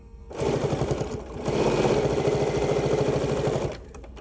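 A sewing machine topstitches a fabric bag handle using a quarter-inch foot, a fast rhythmic mechanical chatter in two close bursts separated by a brief pause, near and clear with no talking.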